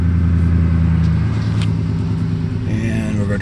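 A Ford F-150 truck engine idles steadily and loudly, a continuous low rumble with a slight surge in the last second, with no talk over it.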